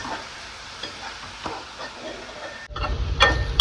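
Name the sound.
frying with salt until golden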